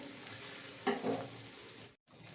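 Green peas roast and get stirred in a pan, giving a soft, continuous sizzle marked by a couple of quick scraping stirs and a short break in sound.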